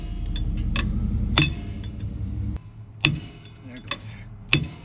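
Wheel studs being knocked out with a small improvised tool in place of a big hammer: a handful of sharp metallic clinks and taps, spaced irregularly, over a low rumbling background that drops away midway.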